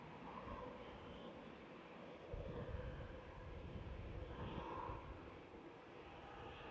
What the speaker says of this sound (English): taxiing out, we've got Ethiopian